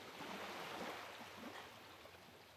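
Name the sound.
ocean waves sound effect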